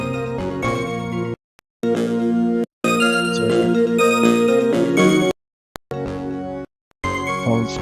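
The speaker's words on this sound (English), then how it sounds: "Phone's chirping out again." In the Phoenix Wright: Trials and Tribulations video game, a phone chirps in bright, repeated electronic tones. The bursts are cut by brief silences.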